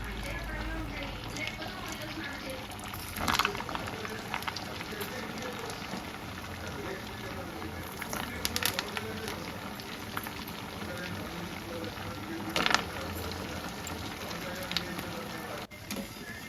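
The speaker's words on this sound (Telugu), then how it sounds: "ఇప్పుడు మిగతాయి కూడా అన్నీ వేసుకొని వేయించుకుందాం" Sabudana vadas bubble and fry in hot oil with a steady, soft crackling hiss, while a person talks over it throughout.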